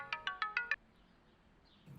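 A phone ringtone sounds five quick, evenly spaced electronic tones, then falls quiet with faint room noise.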